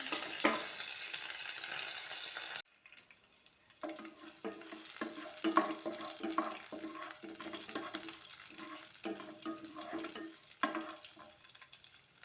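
Shallots, curry leaves and dried red chillies sizzle softly in oil, with rhythmic scraping and stirring strokes of a spoon against the pan, no talking.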